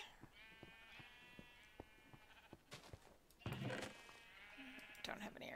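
Sheep in Minecraft bleat in a few wavering calls over soft clicking game sounds, with a person speaking nearby in between.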